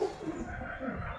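Several pigeons cooing together in the morning, soft low repeated coos layered over a faint outdoor background, steady and moderately close with no talking.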